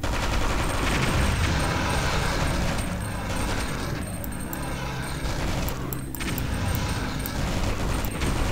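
Rapid automatic fire from a chain gunner turret in the tower-defense game Alien Shooter TD, a dense continuous clatter of shots layered with explosions and game effects, loud and unbroken throughout.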